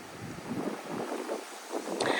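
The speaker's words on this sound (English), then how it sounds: "there is the cairn, and it is windy." Wind buffets a microphone on a hilltop beside a stone cairn, a steady rushing roar with gusty swells and dips, loud and close with no voices.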